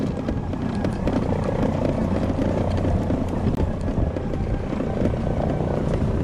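An AW169 helicopter hovers low and comes down to land, its rotors and engine making a loud, steady, close roar that stays level throughout.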